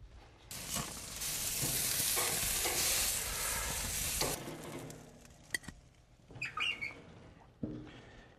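Pineapple pieces grill and caramelize in a pan, starting with a strong, continuous sizzle that cuts off after a few seconds, followed by quieter scattered clinks and scrapes.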